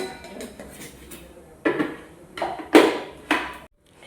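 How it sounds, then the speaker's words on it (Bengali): A piece of ginger being ground into paste for a cauliflower korma: four or five sharp, knocking strikes of stone or a pestle, close and fairly loud, with a softer scraping rub before them. "আদার টুকরোটা প্রথমে বেটে নেব।"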